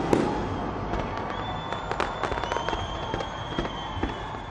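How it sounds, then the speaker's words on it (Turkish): New Year fireworks burst over Auckland harbour, with sharp cracks and pops in quick succession, a few whistling rising shells, and a steady crowd murmur underneath. "Havai fişek gösterisi izleyenleri büyüledi."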